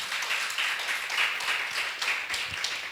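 A church congregation applauding during a Christmas service in Brazil, a steady wash of many hands clapping at moderate level, continuous and fairly distant, with no speech over it.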